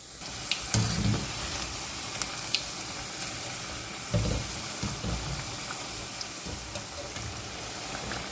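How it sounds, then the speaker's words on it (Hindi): Pakora batter frying in hot oil over medium heat, a steady close sizzle and crackle with occasional louder pops and stirring bumps throughout. "अब इसमें मैं पकोड़े का बैटर डाल के पकोड़े फ्राई करती जाऊँगी।"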